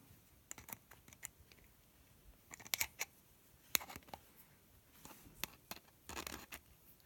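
Small, sharp snips and clicks come from cutting thin wire for a DIY wire tree, scattered irregularly and faint, with light handling rustles between the cuts.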